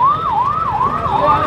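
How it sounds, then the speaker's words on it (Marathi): A fire brigade engine siren wails loudly and steadily in rising and falling sweeps, close by, with no talking. "अग्निशमन दलाची गाडी आलेली आहे।"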